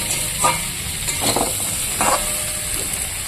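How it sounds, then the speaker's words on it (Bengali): Fried onions and boiled potatoes stirred together in a hot pan, with a steady close sizzle of oil and several distinct scraping stir strokes spaced a second or so apart. "পেঁয়াজ ভেজে রেখেছিলাম যে সেটা আমি আলুটার সঙ্গে দিয়ে দিচ্ছি যাতে নাড়াচাড়া করতে করতে পেঁয়াজটা গলে যায়"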